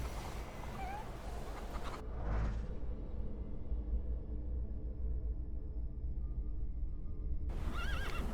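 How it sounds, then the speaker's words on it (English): Horse neighing in the video game The Thaumaturge, a whinny heard amid a dense in-game ambience, rising briefly then fading under a steady background bed, fairly loud and alone without talk. "I meant to take the horse out for a ride"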